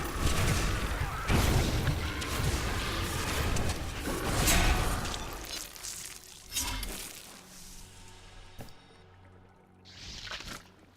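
Wizard spell explosions in Diablo 3, layered booming blasts and whooshing bursts in quick succession that thin out into scattered crackles and a final softer burst, no voice present.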